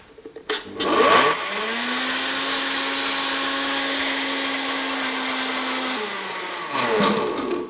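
A blender whirs steadily for several seconds as oil is worked into a vinaigrette emulsion, then cuts off, with brief clunks of handling before and after.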